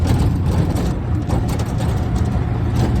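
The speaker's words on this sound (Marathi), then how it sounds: "रिक्षा राईड" Steady low engine rumble of an auto rickshaw on the move, constant and close, with road noise and no talking.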